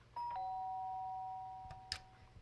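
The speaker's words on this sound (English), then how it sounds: "The sharp sound of the doorbell pierced my sleepy haze" A doorbell in the video game Danganronpa: Trigger Happy Havoc, a clear two-tone electronic chime that rings once and sustains. A brief click and soft thud follow near the end.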